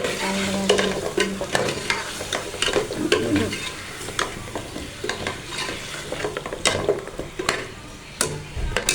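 Potatoes and peas for an aloo matar curry fry and sizzle in a pot as a spoon stirs them, with steady crackling and repeated scraping clatter, close and continuous throughout.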